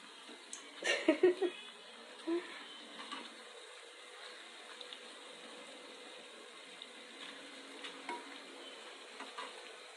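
Mirchi bajji fritters fry in hot oil in a home kitchen with a soft, continuous bubbling sizzle. A few louder clatters and knocks come early on, then the frying hiss carries on quietly and evenly.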